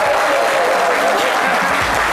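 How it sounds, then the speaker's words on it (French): Studio audience applause on a French midday talk show, dense and loud throughout, with a faint voice under the clapping. "Merci de l'applaudir."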